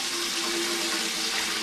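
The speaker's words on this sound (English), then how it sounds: "I need to get some water in my big pan. I'm going to get warm water in there rather than cold water." Warm water pours steadily from a kitchen tap into a large pan, a continuous close hiss and splash with no talking.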